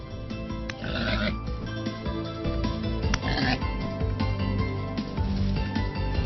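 Low, rough pig grunts and snorts repeat over a busy game background of hums and clatter, with a few sharper clicks mixed in.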